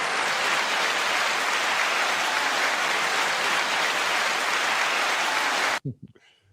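Sustained, dense audience applause fills most of the stretch at steady loudness, then cuts off abruptly near the end, followed by a brief voice.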